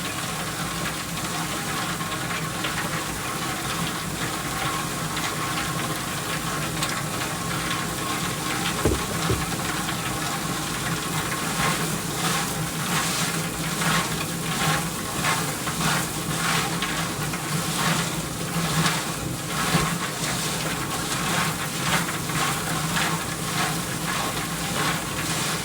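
Dill pickle gourmet popcorn is tossed and mixed in a container to coat it, giving a steady, loud rustling, shaking rattle with rhythmic pulses of kernels sliding and tumbling throughout, with no talk.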